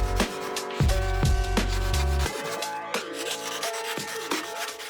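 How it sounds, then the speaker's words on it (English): An XPS foam board edge is rubbed smooth by hand in repeated scraping strokes, close and fairly loud, with sharp swipes at an irregular rhythm and no voices. "I smooth out the edge before gluing it down"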